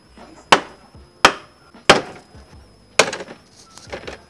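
Plastic fairing panels on a Honda PCX scooter are pried loose, giving four sharp loud snapping cracks spaced about a second apart, with smaller clicks between and after.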